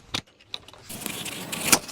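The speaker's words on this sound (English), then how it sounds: "So let me key this car on." Ignition key jangling and clicking as it turns in a Polaris Xpedition side-by-side, a few sharp metallic taps and rattles up close, followed by a steady low hum of the vehicle's electrics and fan.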